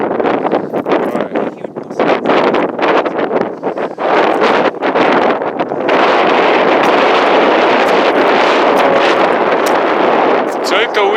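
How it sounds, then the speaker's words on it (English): Wind gusting over a hazy mountain summit on Nigel Peak along the Icefields Parkway, buffeting loudly in bursts and then blowing in a steady roar; a person speaks briefly at first. "It's a little windy"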